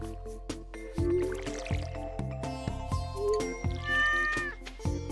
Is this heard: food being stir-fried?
no